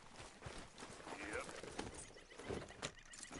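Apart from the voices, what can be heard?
horse walking and trotting in video game Red Dead Redemption 2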